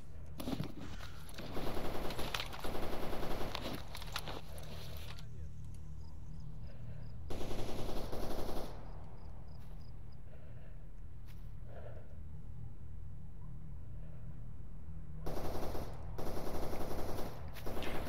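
Bursts of automatic gunfire crackle in a STALKER Anomaly firefight, several short volleys spaced through the stretch with quieter gaps between, sounding moderately distant rather than aimed close by.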